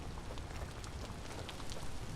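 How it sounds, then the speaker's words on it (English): Heavy rain in the Vintage Story video game, a steady dense hiss of falling drops with constant loudness throughout and no other sounds. "Raining like crazy."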